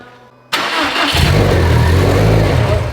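A built Subaru STI engine starts for the first time, a sudden loud catch after a quiet moment, then it settles into a rough, steady, loud idle close by.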